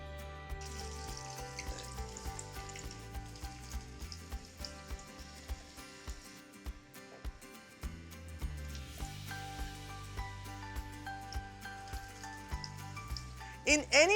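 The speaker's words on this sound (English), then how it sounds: "these are the last of the potatoes before we put them into the sizzling oil" Potatoes fry in hot oil in a home kitchen pan, a steady soft sizzle and hiss running throughout with clinks of utensils and a faint tonal hum underneath, fairly quiet, with a louder rustle near the end.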